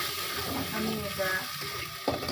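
Fish oil frying with garlic and cumin paste in a pan, a steady close sizzle with occasional stirring scrapes and a brief louder clatter near the end.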